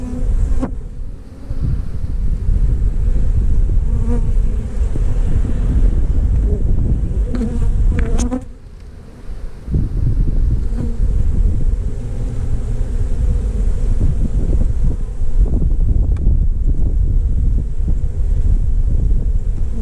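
Honeybees hum in a dense, close buzz around a beehive cutout box, individual insects droning past the microphone amid gusty outdoor wind noise, with a brief dip partway through.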